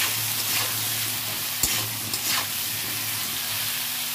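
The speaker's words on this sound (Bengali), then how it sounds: "পটলটা ভালো করে ভেজে নিচ্ছি আর তুলে নেবো।" Pointed gourd (potol) frying in hot oil with salt and turmeric, a soft continuous sizzle with a couple of faint stirring knocks, close and moderately quiet.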